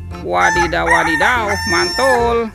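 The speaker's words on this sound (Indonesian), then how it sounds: "Yang ini ada ayam berkokok" Toy rooster crows over and over with a warbling, electronic-sounding call, loud and close, while a person talks excitedly over it.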